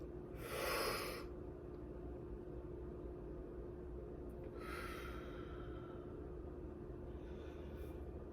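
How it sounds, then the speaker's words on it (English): Two slow, deep breaths through the nose, each a breathy rush lasting about a second, a few seconds apart, over a steady low room rumble, with a faint third breath at the end. "Breathe in, breathe out."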